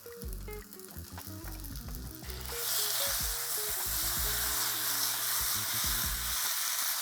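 Drained wholemeal spaghetti goes into a pan of beetroot pesto sauce, setting off a loud, dense, steady sizzle halfway through. Background music plays before and under the sizzling.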